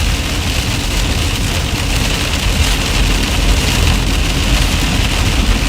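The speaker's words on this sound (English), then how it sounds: "It does not work in heavy rain." Heavy rain pounds steadily on a vehicle during a storm chase, a dense continuous roar with a low engine rumble underneath, loud and unbroken throughout.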